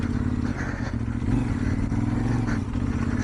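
A motorcycle engine drones steadily and loudly as the bike climbs a slope on a very cold winter ride from Quetta to Shaban in Balochistan, with the engine note rising slightly midway.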